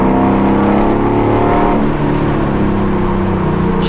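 A Shelby GT500 Eleanor muscle car engine roars loudly and continuously as it accelerates, the pitch rising while it pulls hard through the whole stretch.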